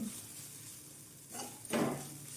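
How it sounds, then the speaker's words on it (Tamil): Grated coconut fries in hot ghee for sweet potato kozhukkattai, giving a soft, steady sizzle with a few nearby stirring and scraping bursts from a utensil against the pan toward the end. "இப்போது நெய் நல்லா ஹீட் ஆகிட்டு அதில் வந்து தேங்காய் துருவல் சேர்த்துக்கலாம்"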